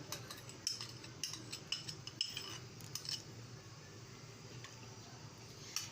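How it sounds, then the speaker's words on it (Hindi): A spoon stirs sugar syrup for apple murabba in a pot, giving faint, irregular metallic clinks and scrapes over a low, steady background hiss. "अब हम इसको चलाते रहेंगे, आराम आराम से चलाते रहेंगे।"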